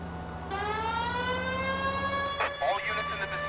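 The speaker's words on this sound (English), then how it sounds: "Why don't you use the siren?" Police car siren from the video game L.A. Noire on PS4, a steady wailing tone that rises gradually and continues throughout, with brief background noises from the game near the end.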